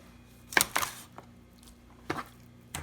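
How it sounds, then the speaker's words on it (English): A sharp kitchen knife chops through a raw chicken backbone during butchering, giving a few sharp, close cracking cuts: two quick strikes in succession, then two more spaced-out chops. "once you cut through this backbone right here, you're pretty much done"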